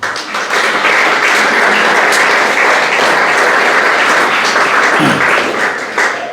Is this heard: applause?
yes